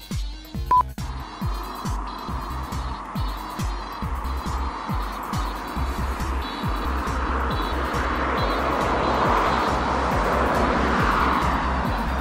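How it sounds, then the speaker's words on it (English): Traffic on a residential street: a vehicle approaches and passes with a swelling broadband rush that builds over the second half, over a steady rhythmic thumping close by. "Hasn't been any traffic on my street all morning until now."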